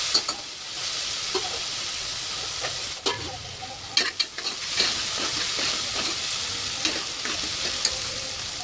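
Finely chopped onions frying in a pan, producing a steady close sizzle broken by occasional spatula scrapes and taps in an irregular pattern.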